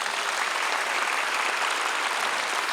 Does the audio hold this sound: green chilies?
no